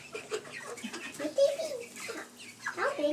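Backyard chickens cluck nearby at a feeder, with soft, irregular clucks and short calls rising and falling over about three seconds of moderate, close sound.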